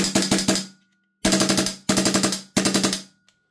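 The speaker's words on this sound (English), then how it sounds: "It's got a very unique sound with that suppressor being empty." Lambda Defence GHM9 Gen 2 carbine dry-fired with an empty suppressor, four rapid bursts of sharp metallic clacking shots, each volley of about five to six reports, loud and close with short gaps between.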